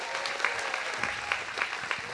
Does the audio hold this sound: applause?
yes